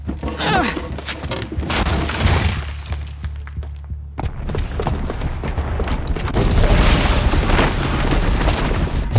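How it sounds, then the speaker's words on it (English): A bomb detonates in the video game Horizon Zero Dawn, setting off heavy booming blasts and crashing, shattering debris mixed with game music and effects, loud and dense, with a short lull before another surge of rumbling destruction. "the booby trap on the bomb downstairs is gonna get set off"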